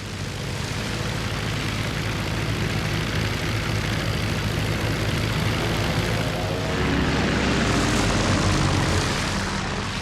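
WWI fighter aircraft of a German squadron just after takeoff, their propeller engines a steady, loud droning roar that thickens toward the end as the planes pass closer.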